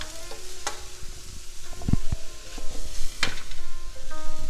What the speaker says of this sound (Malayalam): ഇപ്പം ഇത് ഒരു 2-3 മിനിറ്റ്സ് ഞാൻ ഹൈ ടു മീഡിയം ഹീറ്റിൽ ഇതെല്ലാം കൂടി ഒന്ന് സോട്ടേ ചെയ്തെടുത്തത്